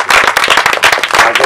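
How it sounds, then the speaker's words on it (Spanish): Schoolchildren clap during a school garden planting event, loud close hand claps in a quick uneven rhythm, sharp individual smacks rather than a smooth wash. "vamos a daros todos un aplauso a vosotros"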